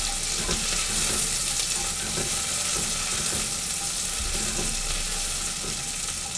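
Onions fry steadily in a hot pan, giving a continuous close sizzle and crackle with no pauses and no talking.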